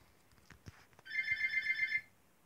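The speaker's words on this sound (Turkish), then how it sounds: "Telefon çalıyor" A telephone rings with a rapid electronic trill lasting about a second, fairly clear over faint room noise after a few soft knocks, with no talk.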